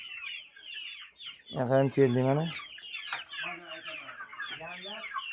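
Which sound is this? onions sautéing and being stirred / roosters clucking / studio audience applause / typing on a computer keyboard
roosters clucking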